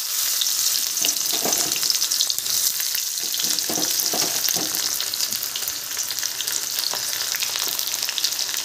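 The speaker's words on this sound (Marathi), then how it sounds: "कढईमध्ये तेल टाकलेलं आहे, तेल तापलेलं आहे। आता त्यामध्ये आपण कांदा टाकूया।" Chopped onion sizzles in hot oil in a kadhai for an egg curry, a dense steady crackle broken by occasional scraping stirs, close and continuous with no voices.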